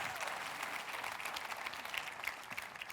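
Church congregation applauding during a prayer service, a steady, fairly distant wash of clapping from many people lasting a few seconds.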